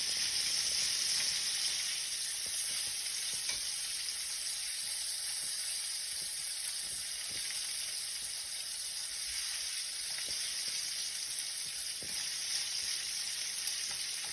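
Fat renders and sizzles steadily in a pan over a high flame while cooking shrimp and grits, a constant crackling hiss with occasional pops close by and no talking.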